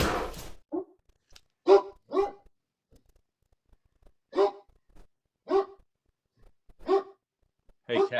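A dog barks repeatedly at irregular intervals, sharp single barks with quiet gaps between them, fairly close.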